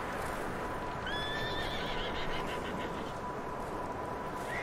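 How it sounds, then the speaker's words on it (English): A horse in Red Dead Redemption 2 gives a clear whinny over continuous wind-like outdoor ambience, with faint hoofbeats as it runs through the woods. "Oh, that's a horse running through the woods."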